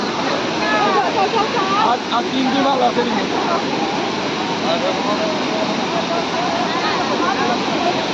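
Lodh waterfall at Netarhat, Jharkhand, a cascade with falls both above and below a bridge, gives a loud, constant broadband roar throughout, with voices talking over it.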